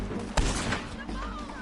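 A single sharp gunshot in the Western game Red Dead Redemption 2 cracks out loud and close, followed by a lingering echo, while someone speaks over the scene.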